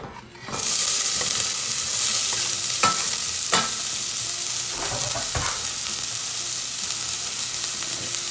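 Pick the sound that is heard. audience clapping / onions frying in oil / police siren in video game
onions frying in oil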